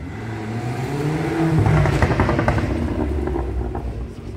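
A Golf 6 GTI with a Stage 1 tune, crackle map and raised rev limit revs hard, its engine note rising and falling through several loud blips with pops and crackles on the overrun, close by with no talking.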